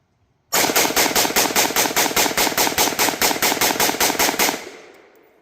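A rifle empties a 20-round magazine in one continuous burst of rapid, evenly spaced shots, loud and close, then the report fades into a short echoing tail. No one speaks.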